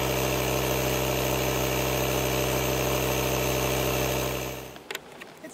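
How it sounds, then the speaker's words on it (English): A Ryobi battery-powered pump runs to inflate e-bike tires at an RV campsite, a loud, steady mechanical drone with a high whine that cuts off near the end, followed by faint handling noises. "So here we are with the pump, getting ready to check these bike tires out and see if they're up to speed."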